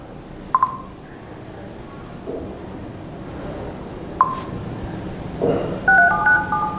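Short electronic dialing tones from a telephone, a couple of isolated beeps and then a brief run of keypad tones near the end, over quiet room background with no talk.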